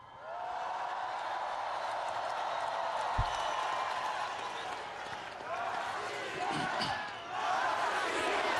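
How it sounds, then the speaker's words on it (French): Large crowd at a Russian outdoor rally applauding and cheering continuously, a dense roar that swells with rhythmic chanting toward the end. "La foule scande « Russie »"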